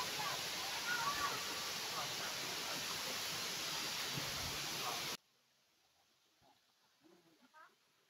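Steady broadband roar of the waterfall at Sarpulong Falls on Sarpulong Island, loud and continuous for about five seconds, then cutting to near silence with faint sounds.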